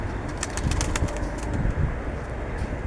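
Tumbler pigeons in a coop, soft cooing and rustling with quick bursts of wing flaps over a busy low rumble of birds nearby.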